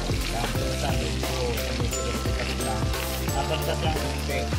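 Pork steak fries in a pan with a steady, dense sizzle and crackle, continuous and fairly loud from start to finish.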